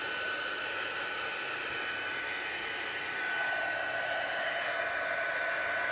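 A hair dryer blows steadily to dry ink on a craft tag, a continuous close, loud whoosh with a faint whine, slightly stronger in the last few seconds, with no voices.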